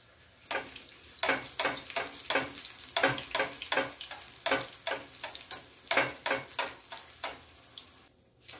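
Chili peppers frying in hot oil in a pan, a close sizzle broken by a rapid series of sharp, spattering crackles and pops, rhythmic bursts about twice per second throughout.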